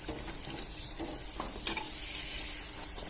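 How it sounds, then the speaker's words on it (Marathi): Spinach puris deep-frying in hot oil make a continuous bright sizzle with light stirring scrapes and a small pop, close and alone. "सगळ्या पुढे असेच तळून घ्यायचे आहेत"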